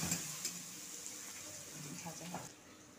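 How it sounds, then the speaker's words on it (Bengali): Onions fry in oil toward browning, a faint, steady sizzle with a few soft clinks and stirring sounds, quiet and close, with a brief voice in the background. "বাদামি করে পেঁয়াজ ভেজে নেব।"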